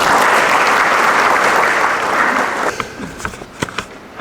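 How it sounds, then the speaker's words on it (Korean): A seated crowd at the Busan nuclear energy forum gives loud, sustained applause that thins out toward the end into a few scattered, isolated claps. "큰 박수로 모시겠습니다."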